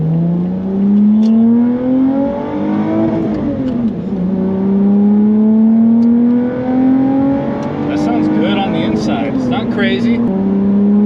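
A Lotus sports car engine revs hard, pitch climbing steadily through long pulls with a brief dip and shift around the middle, loud and close inside the cabin, with people talking over it.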